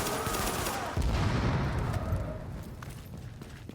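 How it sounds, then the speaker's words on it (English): Pistol shots fired at enemies in a PvE survival video game ring out, with a loud burst of gunfire about a second in that lingers and fades into a rumbling tail. No one talks. "so I can just use the pistol on them."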